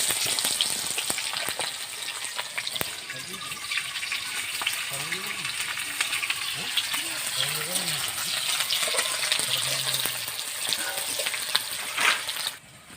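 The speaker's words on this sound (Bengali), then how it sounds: "পেঁয়াজ ভাজা হয়ে গেছে" Sliced onions sizzle in hot oil in a pan with a steady, close crackling hiss that holds throughout, and faint voices murmur underneath.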